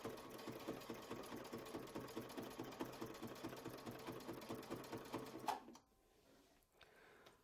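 A sewing machine runs steadily for several seconds, stitching fabric guided along a stitch-in-the-ditch ruler while quilting a block, then stops abruptly and leaves a quiet room.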